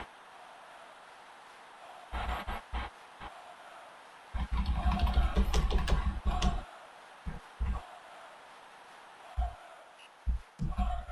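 USB keyboard keys tapped in short clusters while playing SWOS on an Amiga through an H2A adapter, with clicks that come in bursts, one dense run in the middle and scattered presses on either side, fairly close.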